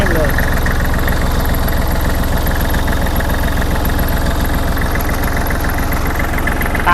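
A used Kubota L3408DT tractor's diesel engine runs with a loud, steady, knocking idle throb close by, and someone talks over it.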